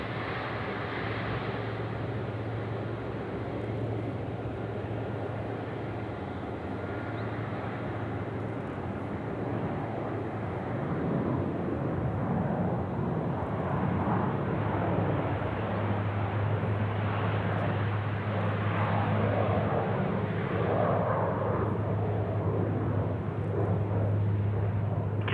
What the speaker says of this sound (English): The Q-Jet is out the door there off runway right.